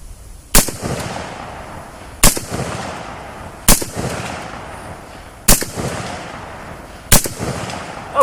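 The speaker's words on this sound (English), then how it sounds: "Let's send a couple of rounds of this through there." A Radical Firearms RF-15 AR rifle fires at an outdoor range. Five loud, sharp single shots ring out at steady intervals of roughly one and a half seconds, each followed by a short echoing decay.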